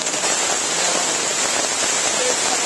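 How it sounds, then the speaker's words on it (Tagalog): Heavy rain pours down steadily in a dense, loud wash with no pauses, falling during a film shoot in the Philippines. "Umuulan na naman, malakas na naman ang ulan."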